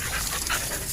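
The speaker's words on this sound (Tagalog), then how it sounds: "Ito yung aso ko na kasama" A dog pants quickly and close by, short breathy huffs in a steady rhythm.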